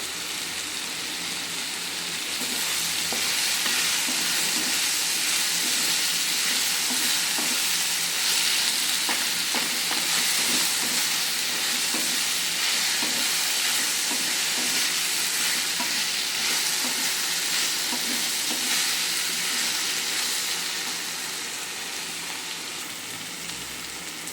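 Onion and tomato frying in a pan for a spiced okra and yogurt dish, a steady close sizzle with scraping stirs throughout, swelling briefly then easing toward the end, no voices.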